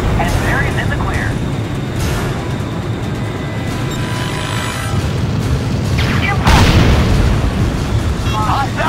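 A destroyed target explodes in the jet combat game Ace Combat: Joint Assault, a heavy boom rising over a steady roar of aircraft engines, loud and close, with radio voices talking over it.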